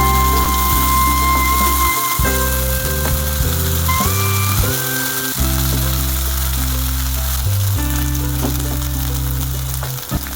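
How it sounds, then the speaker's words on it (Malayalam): Ivy gourd pieces frying in a pan, a continuous loud sizzle with occasional clicks of pieces being set down, close and steady throughout. "കോവയ്ക്ക പീസസ് നമ്മൾ പാനിലേക്ക് വെച്ച് കൊടുക്കുമ്പോൾ അകത്തി വെക്കാൻ ശ്രമിക്കുക."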